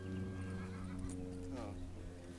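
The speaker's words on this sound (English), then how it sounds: "saw a horse out there on Kelly's" Horse neighing during a riding lesson outdoors, a whinny rising and falling around the middle of the clip, with hooves faintly clopping and someone talking over it throughout.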